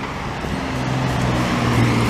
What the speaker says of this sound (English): that Infiniti sounds kind of good